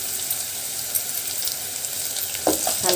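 Ginger paste sizzles loudly in hot oil for an Andhra-style taro root curry, a dense steady frying hiss with a few sharper stirring scrapes near the end and no talk.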